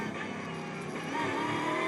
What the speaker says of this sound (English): Great noise as he guns the throttle out of the chicane